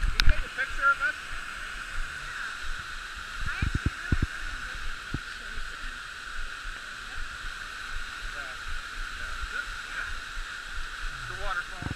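Bridal Veil waterfall on the Klondike Highway near Skagway gives a steady broadband rush in the background while people talk over it, with handling knocks along the way.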